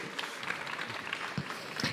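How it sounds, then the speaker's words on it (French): Faint, steady applause from an audience at an industrial trophy awards ceremony, a dense patter of many hands clapping with no standout voices, distant and soft throughout. "Encore une fois, un petit peu d'applaudissements"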